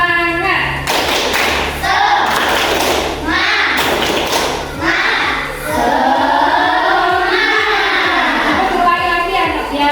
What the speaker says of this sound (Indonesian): kita tepuk semangat dulu ya, supaya kita semangat dulu ya